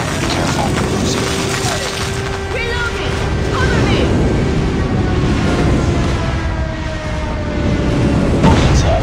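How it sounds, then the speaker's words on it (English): Call of Duty Mobile airstrike explosions land as a dense, continuous booming roar, loud and close, with rumbling blasts piling on top of each other under game voice callouts. "Enemy airstrike incoming."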